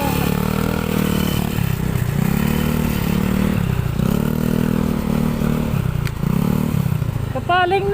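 A motorcycle with its exhaust pipe detached on a long ride roars loudly and continuously close by, its engine droning and surging with rises in revs, rattly clatter mixed in, and voices faintly heard underneath.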